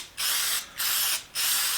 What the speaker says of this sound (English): I just want a real quick little lacquer coat on there just to preserve.